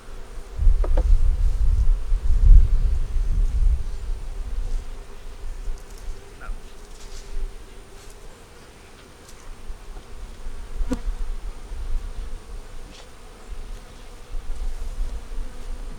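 Honeybees buzzing loudly and close while a beehive is opened, checked and fed for winter, a thick swarm hum that swells early, then eases and returns, with no talk.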